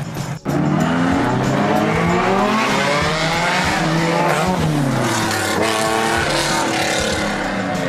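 Race cars drifting on the Long Beach street circuit during Formula Drift preparation: continuous loud engine roar with shifting revs, overlapping tire squeal and skidding, close and sustained throughout.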